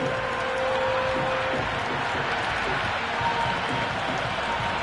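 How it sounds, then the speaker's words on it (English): A cricket crowd roars in the video game Cricket 26 during an ODI match between New Zealand and India, a continuous, steady wash of cheering and clapping that stays even throughout. "Will you listen to that crowd? They are loving this."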